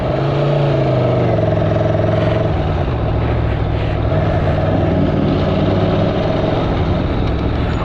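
Aprilia Tuono V4 motorcycle engine while riding, a loud steady V4 drone with shifting pitch as revs rise and fall, close and continuous, no talking.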